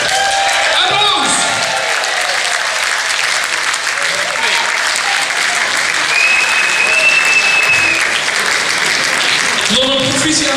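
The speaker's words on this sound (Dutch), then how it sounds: "Applaus!" An audience at a carnival song contest prize announcement breaks into sustained, dense applause that stays loud and even for the whole stretch, with a few scattered shouts mixed in.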